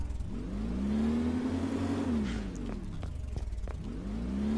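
A Ford Tremor pickup in a video game revs as it pulls a trailer, engine pitch sweeping up and dropping back through gear changes, with a second climb near the end, loud and close.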